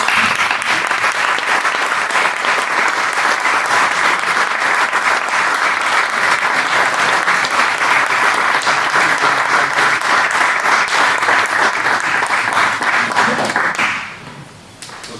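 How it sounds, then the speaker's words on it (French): Applause at a municipal council meeting in Rebecq, many hands clapping in a dense, steady rhythm for about fourteen seconds before it quickly fades out to near quiet. "je pense qu'on peut le féliciter et l'applaudir"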